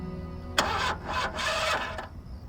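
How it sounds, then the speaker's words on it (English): A car engine fails to start, a short burst of cranking and sputtering that catches briefly and dies, then cranks again in a second uneven attempt, close and fairly loud. "A car with an engine that can't start, that's always danger."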